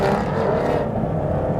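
The naturally aspirated V12 of an Aston Martin Vantage roars loud and close in a steady, continuous rush of engine noise.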